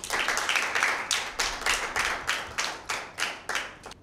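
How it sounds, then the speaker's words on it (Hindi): Two girls' school quiz teams at a Bible quiz clap for themselves in a run of distinct, fairly close hand-clap bursts, rhythmic and separated by short gaps. "अभी दोनों टीम्स अपने लिए खुद तालियां करेंगी"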